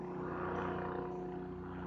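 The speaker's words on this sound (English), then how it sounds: "Oh, it's a helicopter circling around us." Helicopter circling overhead, heard as a faint, steady, distant engine drone with a low rotor hum throughout the short stretch, no voices.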